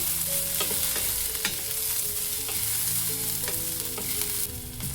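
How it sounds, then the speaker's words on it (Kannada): Lengthwise-sliced onions fry over a low flame in a pan, giving a steady, even sizzle with occasional light clinks of stirring, close and continuous, with no talking. "ಉದ್ದಕ್ಕೆ ಕಟ್ ಮಾಡಿರೋ ಈರುಳ್ಳಿ, ಇಷ್ಟನ್ನು ಹಾಕಿ ಲೋ ಫ್ಲೇಮಲ್ಲಿ ಇಟ್ಟು ನಾನು ಈರುಳ್ಳಿನ ಫ್ರೈ ಮಾಡ್ಕೊಳ್ತಾ ಇದ್ದೀನಿ"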